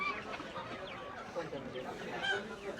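Sonali chickens cluck in short, scattered bursts at a busy city poultry market, close by and mixed with steady crowd chatter and people talking nearby.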